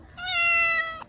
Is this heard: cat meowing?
yes